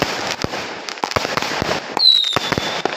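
Colour firework shells, 4- and 6-inch, launched for a New Year celebration, with a rapid series of loud, sharp bursts and crackling pops close by, and a whistling streak rising midway.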